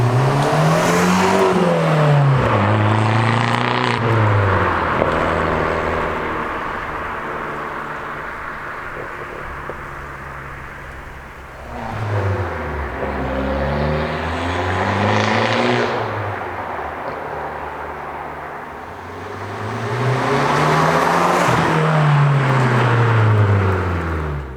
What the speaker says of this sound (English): This is the MS Racing twin silencer exhaust.